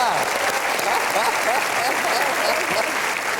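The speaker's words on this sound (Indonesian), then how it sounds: "kita berikan aplaus sekali lagi untuk Sagdia" A studio audience on the Indonesian talk show Kick Andy applauds in a dense, steady burst of clapping, with a voice speaking over it throughout.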